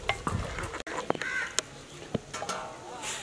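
Dumba mutton bhuna with spices in a pan: a steady sizzle with scraping spoon strokes and a few sharp knocks, close and moderately loud.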